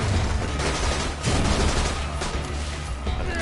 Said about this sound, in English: I'm gonna start shooting him.